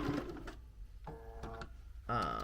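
A sewing machine stitches tiny doll-sized oven mitts in short, slow bursts of mechanical whirring and clicking, separated by pauses, with a voice talking over parts of it.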